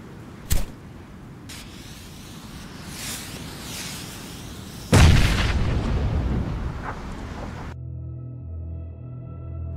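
Battlefield blasts from the Meuse front of 1918: a sharp boom near the start, then a louder, heavier explosion midway that rumbles and decays into a soundtrack bed, evoking a WWI pull-cord grenade going off.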